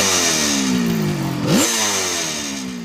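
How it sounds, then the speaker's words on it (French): A 1973 Kawasaki 750 H2 two-stroke three-cylinder motorcycle engine buzzes loudly nearby, revving down and then sharply back up in a raspy, droning rise. "on est surpris par le charme de ce 3 cylindres 2 temps, bruyant et fumant"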